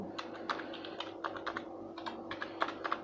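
Quick bursts of key presses on a computer keyboard spell out a website address, irregular clicking taps in small clusters, close and fairly quiet, with no voice.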